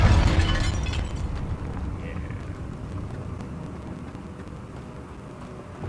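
Confringo blasting curse explosion in Hogwarts Legacy, a loud boom at the start that decays into a long rumbling, crackling tail, with faint eerie ambience as it fades.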